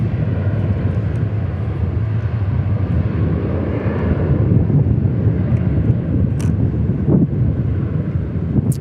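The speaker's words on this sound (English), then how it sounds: "We got one of the big boys over there at 777 getting ready to take off." Boeing 777 airliner getting ready for takeoff at DFW Airport, a steady broad engine roar heard from a distance outdoors with some wind noise on the microphone, continuous and fairly loud throughout.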